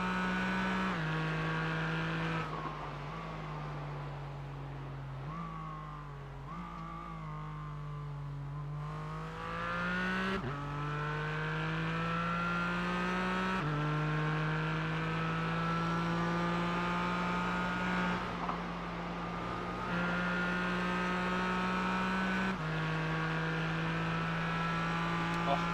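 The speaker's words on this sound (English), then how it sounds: "That Porsche engine, that straight six, sounds so incredible." A Porsche straight-six race car engine in a sim racing game at Barber Motorsports Park wails loudly and continuously, with a sustained high drone that climbs through the gears and drops sharply at each shift, with no talk over it.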